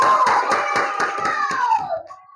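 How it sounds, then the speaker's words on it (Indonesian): A classroom audience claps for the second student group, a short burst of close, rapid hand claps with a steady rhythm that fades out toward the end. "Tepuk tangan untuk kelompok 2"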